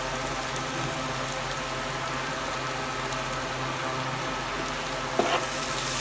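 Jackfruit seeds fry with small bay leaves in hot oil, giving a dense, even sizzling hiss that runs steadily throughout, with a brief stir or scrape near the end and no talk.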